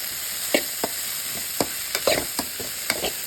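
Coconut pieces are sautéed in a frying pan, with a steady sizzle under repeated quick scrapes and taps of a spoon stirring at an uneven rhythm.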